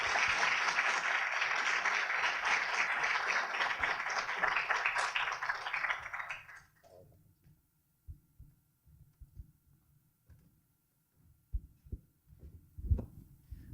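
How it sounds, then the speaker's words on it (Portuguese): Audience applause at a talk, broad clapping lasting about six seconds before cutting off, followed by scattered low thumps and handling noise. "eu gostaria que vocês recebessem aqui com uma salva de aplausos Luiz"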